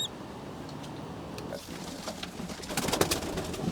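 A pigeon from a backyard flock coos softly and close by, its murmuring calls growing louder and more frequent toward the end.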